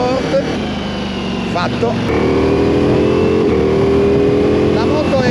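A BMW GS 1250 Adventure motorcycle engine in sport mode runs loud and close under wind noise, its tone climbing steadily as the bike accelerates, with a brief spoken word at the start.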